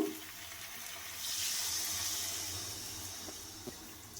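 Water pours into a cooking pot holding potatoes and pointed gourd for a prawn curry, a faint, soft splashing stream for a couple of seconds that then tapers off.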